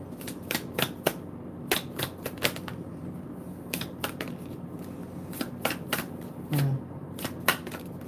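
A deck of tarot cards is shuffled at close range, producing repeated quick riffling and flicking bursts in an irregular rhythm, with a faint low sound near the end.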